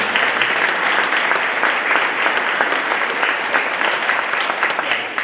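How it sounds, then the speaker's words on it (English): Audience at a Northland college graduation ceremony breaks into loud, sustained applause, dense steady clapping filling the hall throughout without pause. "So let's give them a round of applause."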